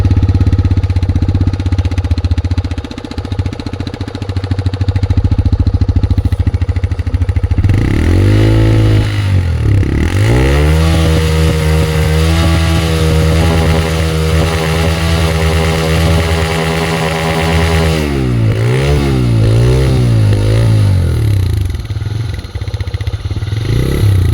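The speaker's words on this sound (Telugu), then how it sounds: "ఇంజిన్ సౌండ్ ఎలా ఉందో ఒకసారి చూద్దాం" A 2024 TVS Raider 125 motorcycle engine runs close by, idling steadily and rising in a few revs before settling back to a throbbing idle.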